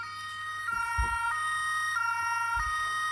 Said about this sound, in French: Je mets la sirène.